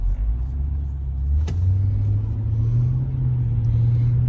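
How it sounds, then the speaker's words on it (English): Steady road traffic rumble heard from inside a moving car on a busy Sunday, a continuous low engine drone that rises slightly in pitch as the vehicle picks up speed, with a brief sharp click partway through. "You got all this traffic."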